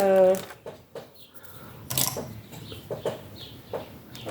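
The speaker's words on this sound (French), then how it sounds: "Se réveiller avec le petit chant des oiseaux, c'est trop, trop agréable." Birds call in the morning with short, scattered chirps and clucks that come and go under a person talking nearby.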